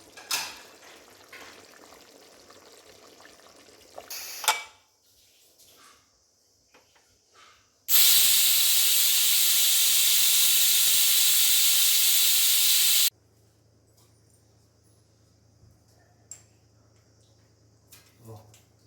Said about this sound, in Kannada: ಆಮೇಲಿಂದ ಕುಕ್ಕರ್ ಮುಚ್ಚಳ ಮುಚ್ಚಿ ಒಂದು ವಿಷಲ್ ಕೂಗಿಸ್ಕೊಬಿಡೋಣ.